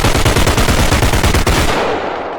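Rapid, loud, close machine-gun fire from the video game Body Cam comes in a fast burst of repeated shots, then tails off into a fading echo. There is no talking.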